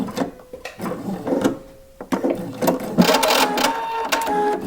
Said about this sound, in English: I'm just going to back stitch